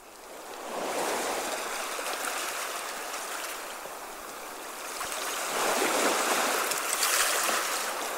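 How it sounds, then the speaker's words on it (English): Seaside ambience of waves washing on a shore, played back by a smart speaker: a steady, moderately loud rush of surf that swells and recedes, growing fuller toward the end, with no voices. "Seaside."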